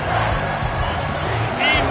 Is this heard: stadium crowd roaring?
yes